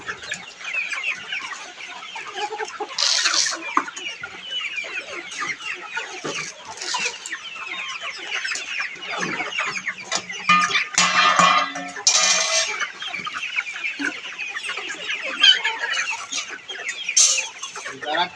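A flock of tiger breed chickens raised for meat clucks and chatters continuously at close range, with overlapping calls, occasional louder squawks and a faint rooster crow, and no talking.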